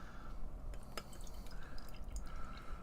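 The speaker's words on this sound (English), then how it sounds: "So let's pour this thing and see what this thing looks like." Sorbetto Series #46 sour ale from Ever Grain Brewing Co. is poured into a small stem glass, a faint, steady liquid trickle with a few light drips, quiet and without talk.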